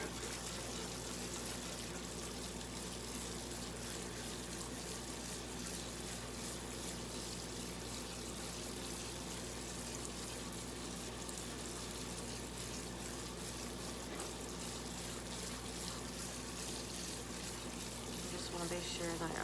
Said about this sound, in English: Gonna give them a really good rinse.